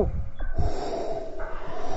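Heavy, ragged breathing from a ghost in the horror video game Ghost Scape, with a couple of sharp snorting gasps early on over a steady noisy game background, fairly close and loud.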